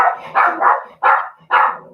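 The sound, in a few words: dogs barking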